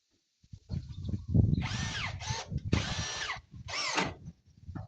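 A power drill drives screws into an upper awning panel during a volunteer construction job, giving three or four short whirring bursts with pauses between them, close and fairly loud, over low rumbling background noise.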